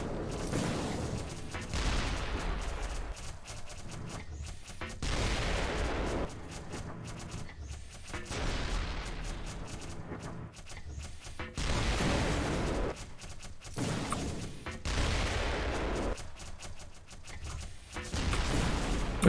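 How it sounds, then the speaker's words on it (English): Gunfire in the first-person shooter Black Mesa, with dense bursts of shots and impacts layered over a constant game soundscape, coming in several loud waves with brief lulls between them. "just run up to it and shoot"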